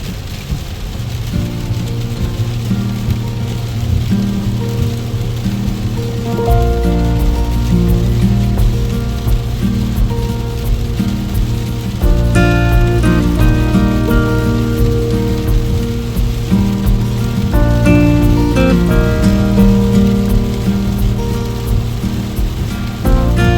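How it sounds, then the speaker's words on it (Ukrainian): Heavy rain drums steadily on a surface nearby, a dense continuous patter with a low rumbling hum underneath, no one speaking. "ну і дощ."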